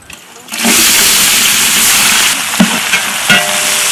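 Sliced onions dropped into hot oil and ghee in a pan for quail biryani gravy, an immediate loud, steady sizzle that continues for several seconds, with a few clinks of stirring near the end.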